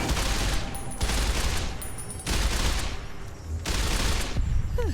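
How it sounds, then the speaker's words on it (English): Sustained fully automatic rifle fire in Fallout: New Vegas, loud dense bursts rattling continuously in several long volleys with only brief dips between them. "this rifle fully automatic now"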